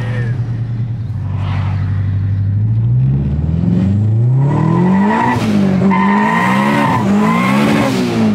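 Turbocharged 450 hp K24 2.4-litre car spinning its tires: a loud engine climbing in pitch with squealing, skidding wheelspin, up close and rising toward the end.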